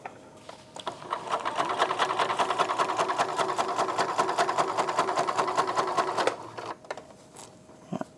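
A sewing machine stitches shirring rows into taut, stretched fabric, running steadily with a fast, even needle rhythm for about five seconds before stopping, followed by a few faint handling clicks.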